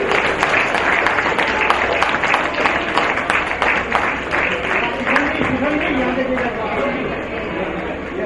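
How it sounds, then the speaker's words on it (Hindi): Audience at a Maharaj Agrasen Jayanti function applauding a guest as he takes his seat, steady loud clapping from a large crowd that fills the hall and slowly eases off, with voices and chatter mixed in. "आपकी तालियां उनके बैठने तक बजती रहनी चाहिए।"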